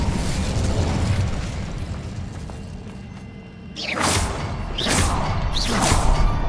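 In the video game Hogwarts Legacy, the Incendio fire spell is cast, and a low rumbling bed gives way to several loud fiery whooshing bursts in quick succession.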